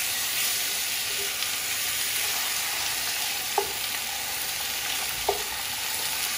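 Chicken pieces browning in a hot frying pan for an Antillean colombo, giving a steady close sizzle and hiss throughout, with two brief clinks as the meat is turned.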